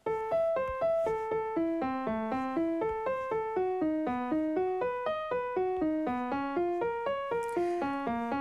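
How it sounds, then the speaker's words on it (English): Piano-voiced arpeggio in Chrome Music Lab, a continuous run of evenly spaced struck notes climbing and descending through changing chords for over eight seconds, clean and moderately quiet with no talking. "you can change it to the sound of a piano."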